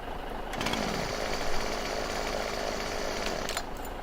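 A chainsaw in Farming Simulator 17 drones at a steady, close, buzzing pitch throughout, with a slight rise near the start and no pauses.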